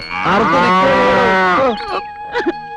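A cow in a Malayalam film scene gives one long, loud, close moo, followed by a shorter, fainter grunt-like call.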